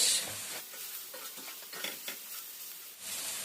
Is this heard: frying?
yes